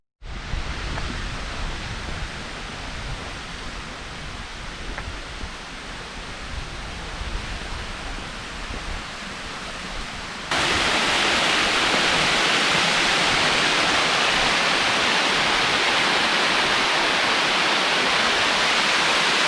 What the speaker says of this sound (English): Here we are at the Newell Waterfalls.